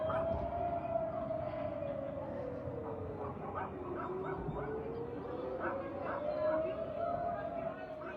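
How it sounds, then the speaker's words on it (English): An air raid siren in northern Israel wails in a long, slow rise and fall, heard at a distance, while dogs bark and yip nearby and voices murmur in the background. "Here we have some air raid sirens that were active in northern Israel"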